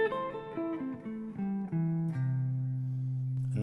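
An eight-note guitar arpeggio with a major 6 quality rolls downward across the strings, notes sounding one by one before settling into a sustained low ringing tone, close and clean with no talking.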